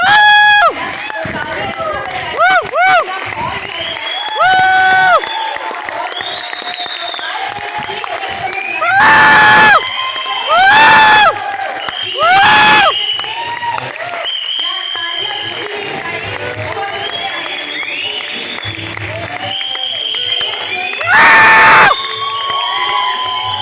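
An audience at a training event in the Urdu Maskan auditorium, Hyderabad, cheers and whoops loudly, with repeated shouted bursts rising over a continuous crowd roar and light clapping.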